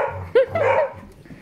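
Beagles playing tug with a sweatshirt on a rug indoors give a short yelping bark and whimpery vocalizing, close up, over steady background noise.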